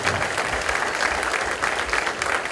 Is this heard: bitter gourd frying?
no